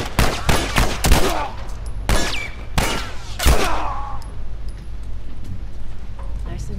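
Gunfire in the video game The Last of Us: several sharp, loud shots ring out in an irregular series over the first few seconds, with players talking over the game sound.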